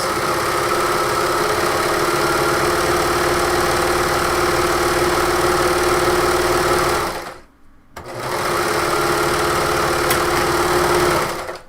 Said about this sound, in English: I've just serged the bottom, and now I'll go ahead and serge the other side seam